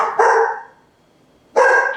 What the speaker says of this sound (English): I guess you can hear my dog in the background.